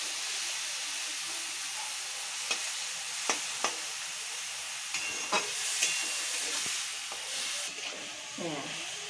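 Bottle gourd greens with a garlic tempering fry in a pan, giving a continuous hiss and sizzle punctuated by scattered scrapes and knocks from stirring. A faint bit of scraping texture comes near the end.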